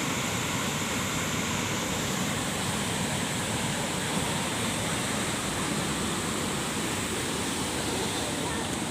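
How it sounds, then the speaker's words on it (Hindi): Close to the famous Aharbal waterfall in Kulgam, Kashmir, falling water makes a constant broadband roar that stays even and unbroken throughout, loud and near. "ये है नामी ग्रामी मारूफ मशहूर अहरबल का वाटरफॉल।"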